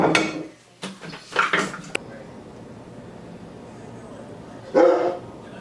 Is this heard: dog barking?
yes